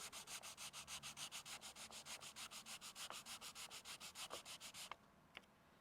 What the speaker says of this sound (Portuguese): eu passo a lixa aqui